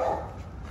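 A single short bark from a dog sounds once at close range, then fades into a low room hum.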